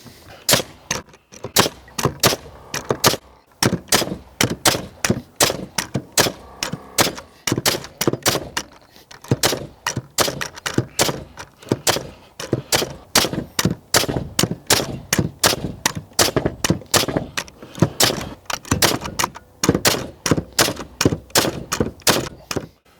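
A Senco PRO framing nailer fires nails in rapid succession, sharp loud pneumatic bangs repeating at a brisk, fairly regular pace for the whole stretch, with brief pauses between bursts.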